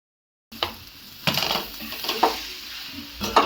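Grated jaggery is stirred in a pan for modak filling, a spoon scraping and clinking against metal in several distinct strokes with soft sizzling between them, close and moderately loud.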